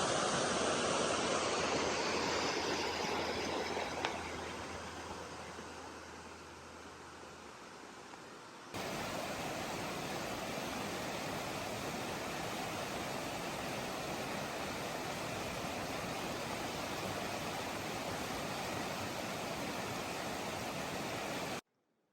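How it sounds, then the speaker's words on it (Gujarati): The Bagla Khadi river flows near Devmogra in Dediapada, Narmada, Gujarat, a continuous broadband rushing roar that dips slightly, then jumps louder partway through and holds steady, with no voices. "હા, નદી છે ને."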